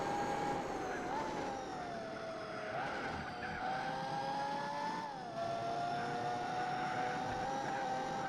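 A racing car in the PS2 game Gran Turismo 4 runs at full throttle: a loud, continuous engine whine with brief pitch dips near shifts or corners, no talking.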